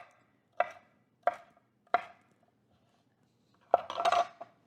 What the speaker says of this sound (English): Here we're gonna chop our peppers into a little bit bigger pieces, not as small as our onion